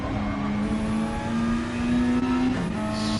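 An Aston Martin GT3 race car's engine in a racing video game, holding a loud, steady high-revving drone with slight pitch shifts as it climbs and eases off, close and continuous with no talking.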